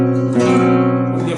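A flamenco guitar rings out one strummed chord with a clashing major second added, the dissonant notes sustaining for just over a second at close range.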